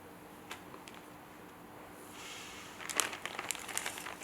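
A plastic bag crinkles as a banana is put inside and pressed down, soft rustling at first and then louder bursts of crackling near the end, with no talking.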